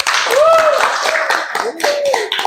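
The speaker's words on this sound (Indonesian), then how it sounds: "beri aplaus, Turaka" Students clap together in a classroom during a mathematics lesson on reflection, producing a short burst of close, uneven applause mixed with the teacher's voice and children's chatter.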